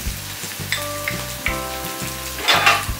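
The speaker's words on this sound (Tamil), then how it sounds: "ஜீரகத்தூள் போட்டு இந்த மாதிரி நல்லா கலந்து விட்டுருங்க" Tomato gravy with turmeric, chili, coriander and cumin powders cooking in oil in a kadai, a steady close sizzle with spoon scrapes and stirring clatter over a low humming tone.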